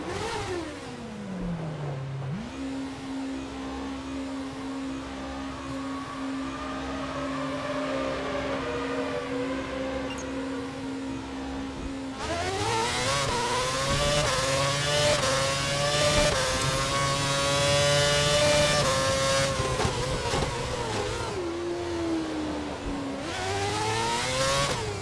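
F1 race car engines in a racing game at Valencia, a high steady engine tone that shifts pitch through gear changes, then louder layered revving from several cars as the pack closes, with no talk.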